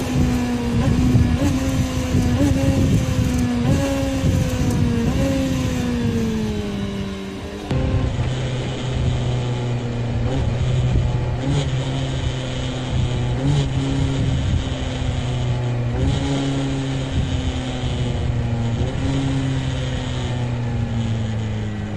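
A motorcycle engine rises and falls through repeated throttle blips while downshifting without the clutch, each rev flaring briefly before dropping to a lower gear, loud and close throughout.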